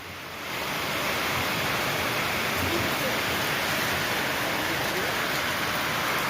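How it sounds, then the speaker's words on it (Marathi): Heavy rain pours down in a dense, steady hiss that swells in within the first second and then holds loud and constant throughout. "अरे भयंकर पाऊस पडलाय."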